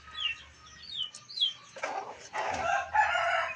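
A hen calls in short repeated clucks and a rising cackle while laying eggs, fairly close and moderately loud, with a few soft rustles and no talking.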